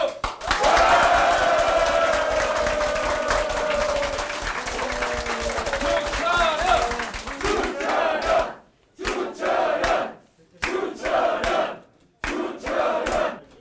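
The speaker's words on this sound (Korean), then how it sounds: "박수!" Supporters of a winning National Assembly candidate in Yeosu, eastern South Jeolla, cheer and clap loudly as a dense crowd for about eight seconds, after which a voice speaks in short bursts with lighter crowd noise between.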